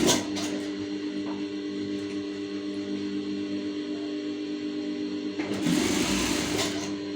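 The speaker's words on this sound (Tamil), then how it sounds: "இப்போ பாருங்களேன் அப்படியே நம்ம பா பட்டியை தைக்கிறோம்" A sewing machine runs steadily, stitching a hook-fastener strip onto fabric with a continuous motor hum and rapid needle rhythm, briefly louder near the end.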